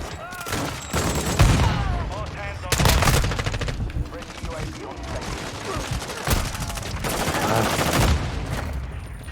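Dense video-game gunfire in a multiplayer shooter, sustained rattling automatic bursts and volleys filling the whole stretch, loud and continuous, with a voice talking intermittently underneath.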